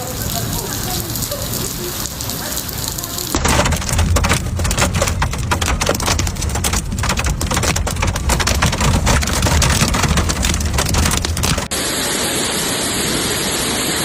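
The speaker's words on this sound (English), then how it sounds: "Within minutes, the two regional capitals were hit by heavy rain" Heavy rain pours down during a severe storm in the Pyrenees around La Seu d'Urgell and Puigcerdà, Catalonia, Spain: a loud, dense, continuous hiss of drops drumming on surfaces, swelling harder midway before easing slightly.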